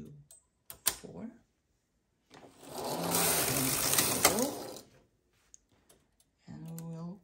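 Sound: knitting machine carriage moving across needles

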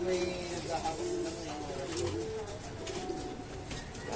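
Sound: pet birds cooing

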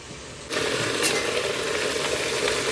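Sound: okra frying in pan

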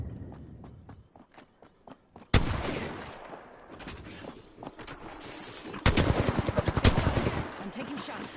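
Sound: Mastiff shotgun firing in Apex Legends video game

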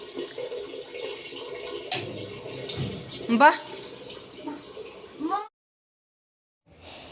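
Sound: water filling from a tap

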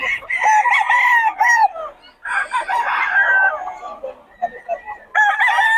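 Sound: roosters crowing and chickens clucking at a chicken seller

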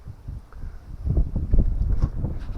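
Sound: strong wind on camera microphone

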